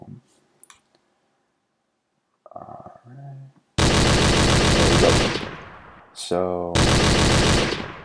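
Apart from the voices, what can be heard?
laser beam weapon firing in a Unity game effect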